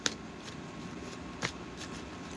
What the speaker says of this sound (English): See, I'm shuffling.